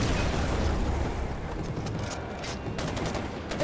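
Grenade launcher explosions in the Far Cry 4 video game, set in snowy Himalayan terrain: a heavy, rumbling blast fading into crackling debris, followed by a few sharp pops, loud and close.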